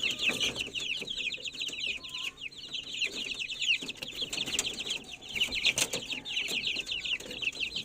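Australorp and Rhode Island Red chickens scuffle in a farmyard flock, with dense overlapping clucks and squawks running steadily throughout, a few sharp bursts and possible wing flaps standing out over a busy background.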